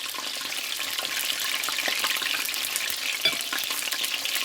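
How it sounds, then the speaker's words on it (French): Asian rice noodle salad with white pepper being stirred and tossed in a bowl, a steady close, bright rustling and slick mixing texture with no talk. "Je mélange de nouveau."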